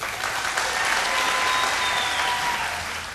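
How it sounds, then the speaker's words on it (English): A studio audience applauds band members at a televised Vocal Fusion singing competition, a dense, even roar of clapping that holds steady, then eases slightly at the end. "Please give a huge round of applause"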